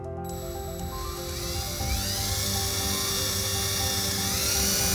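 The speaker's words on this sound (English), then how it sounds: "Screw the last screw in." A screw being driven into an RV screen door grab bar with a power driver, a steady whirring drive tone that rises in pitch and strains slightly as it tightens, close and continuous for a few seconds, no voices.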